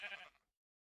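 A single short sheep bleat from the Minecraft modpack All The Mods 9, faint and under half a second, then silence.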